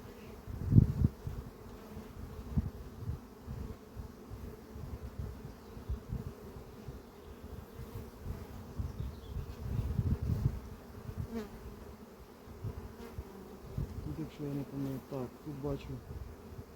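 Honey bees hum around an open hive during a swarm-prevention check on a colony, a close, steady buzzing with individual bees flaring louder as they pass near.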